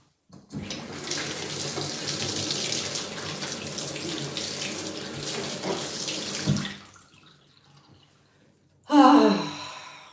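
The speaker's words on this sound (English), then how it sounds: "even the sound of the water running down the drain. It's so soothing." Water pours steadily from a tap into a basin during a foot-care soak, a loud close hiss for several seconds, then stops, leaving quiet before a brief splashy burst of water near the end.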